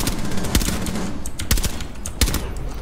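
Suppressed MP7 fire in Rainbow Six Siege comes as dry muffled bursts, with three distinct sharp reports and rapid clatter against a dense, noisy game background.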